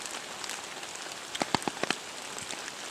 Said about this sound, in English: when you are hunting in this rain